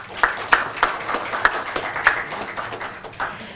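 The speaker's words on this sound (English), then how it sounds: "So can we have a round loud of applause for all winners and nominees sitting here" Guests at an insurance industry awards event clap for the winners and nominees, a thin, uneven scattering of individual handclaps with distinct sharp strikes rather than a full roaring ovation.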